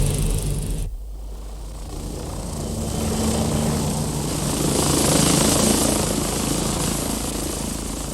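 A helicopter drones steadily with a throbbing rotor wash, loud and continuous, swelling slightly as it passes, flying to Bull Rock Lighthouse off County Cork, Ireland, 1979.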